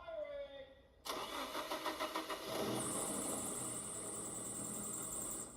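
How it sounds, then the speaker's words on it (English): A Nissan SR20 car engine cranks and catches, then settles into a steady idle with a high whine above it, and voices speak over the start. "That's a working SR20, Dill."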